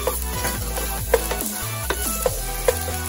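Onions sautéing in a pan as a Filipino dish of pagi (stingray) is cooked, a steady close sizzle with scraping stir strokes and a few sharp clinks of the spatula against the pan.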